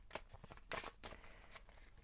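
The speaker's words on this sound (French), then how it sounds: "On met les cartes." Playing cards are shuffled and dealt out in quick, close riffles and soft flicks, a few sharp bursts of card noise alone in a quiet room.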